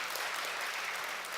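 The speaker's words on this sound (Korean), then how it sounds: "네, 박수로." A church congregation claps together during an evening worship service, a soft, fairly distant and even patter of applause that lasts only briefly, with no voices over it.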